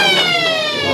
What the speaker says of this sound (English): Half time here. A kick on the siren.